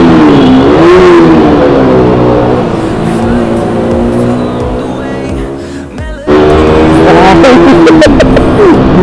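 Loud, close KTM Duke motorcycle engine revving hard, pitch rising and falling through several throttle blips, with a brief dip before roaring back up.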